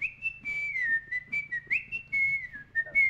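A person whistles a wavering, sliding melody up close at a radio broadcast setup, the tune rising and falling in short phrases over a faint low hum.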